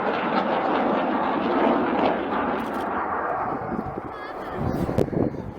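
A single aircraft flying an aerobatic display at the RAF Cosford airshow roars loudly and close in a broad engine rush that fades slightly as it passes, under a commentator's voice.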